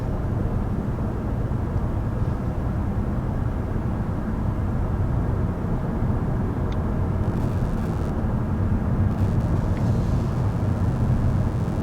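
Steady cabin hum inside a 2020 Lexus ES 350 F-Sport cruising at about 50 mph, an even low road and engine drone that stays constant and fairly quiet throughout, with no talking.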